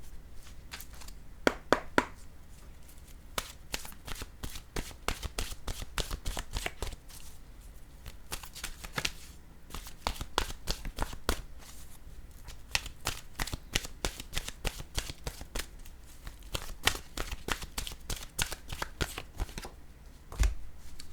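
Oracle cards are shuffled by hand in repeated quick riffling bursts, crisp close-up flutters and taps recurring with short pauses over about twenty seconds.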